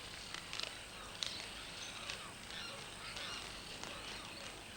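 Wood storks and other birds call at a huge Pantanal wetland breeding colony, a dense distant chorus of overlapping honks and squawks with a few louder calls popping out.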